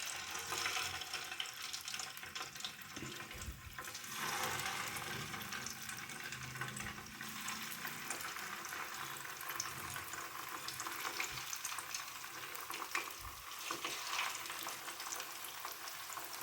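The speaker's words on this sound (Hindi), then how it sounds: "इसी तरह से उलट पुलट करते हुए हमें गोल्डन ब्राउन फ्राई कर लेनी है।" Veg lollipops deep frying in hot oil in a pan, a soft continuous sizzle and crackle with occasional stirring clinks, fairly quiet and steady with no talking.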